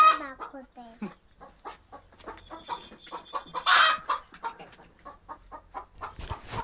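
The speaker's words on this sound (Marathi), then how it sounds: "कोंबडीचा आवाज ऐकून पिशू पण घाबरली" Hens clucking in a cattle shed on a dairy farm, with short repeated clucks and calls scattered throughout, close and fairly loud, while a person talks over them.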